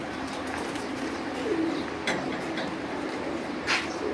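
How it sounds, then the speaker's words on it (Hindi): Soft pigeon coos from a rooftop pigeon loft drift through a steady background hum, a few brief calls rising at intervals against constant ambient noise. "बहुत ही मशहूर कबूतर हैं जी भाई रफ़ीउल्लाह के लाखे।"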